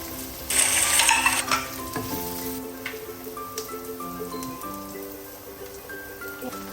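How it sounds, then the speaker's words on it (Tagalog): Onions added to browning ginger in a pan, with a loud sizzle and frying crackle flaring up at first, then steadier sizzling with stirring scrapes, close up and without talk. "i-add na natin ang onions."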